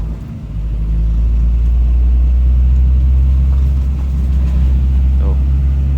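A Honda Civic Wonder climbing a steep mountain road held in second gear, a loud deep steady engine drone with low rumble, a person speaking briefly over it.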